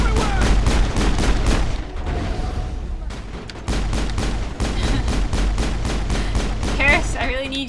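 Rapid, loud bursts of automatic gunfire rattle almost without a break during a firefight in the video game Mass Effect, pausing briefly midway before the shooting resumes just as densely.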